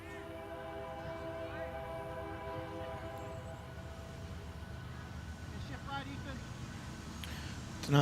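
Train horn sounding near a high school soccer match, a sustained layered horn chord held steadily from start to finish over low rumble and crowd noise.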